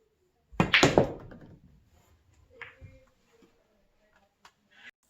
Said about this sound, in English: Now let's see the shot with the center ball hit.